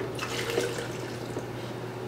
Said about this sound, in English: I'm going to add to the blender about 2 cups of water.